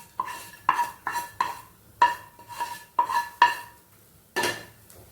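Coconut sweet scraped out of a metal kadai pan into another dish: about ten sharp metallic clinks and scrapes of a spoon against the pan, irregular and close, with brief pauses between.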